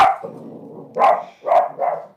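A dog barks three times in close succession, loud and near, after a softer whimpering yelp at the start, in an indoor room during a fluid art pouring session.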